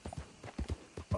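Horse hooves clip-clop in the video game Red Dead Redemption 2, a quick uneven series of soft, close thuds at low volume.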